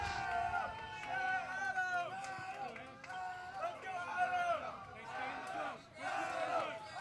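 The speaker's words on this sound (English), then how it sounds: "We hear cheering from the crowd, or from the dugouts, and they're saying Adam." Crowd and dugout voices cheer and call out a player's name at a high school baseball game between Sycamore and Colerain, a steady noisy hubbub of shouting that swells and dips over several seconds without a break.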